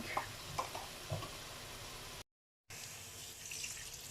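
Water runs steadily from a tap into a cooking pot for beef pares, a soft continuous splashing with a brief pause partway through.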